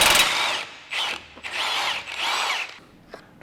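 A power tool drives a new bolt while a 2019-2025 Honda Passport is lifted, sounding in four close, loud bursts of whirring of rising length.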